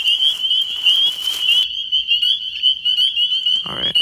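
A loud chorus of frogs calls at night in spring, dominated by one continuous high trilling voice up close with other callers layered behind it, plus a brief rustle near the end.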